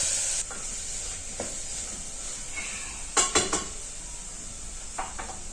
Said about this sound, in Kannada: ಮಸಾಲೆ ಎಣ್ಣೆ ಬಿಡೋವರೆಗೂ ಚೆನ್ನಾಗಿ ಫ್ರೈ ಮಾಡ್ಕೋಬೇಕು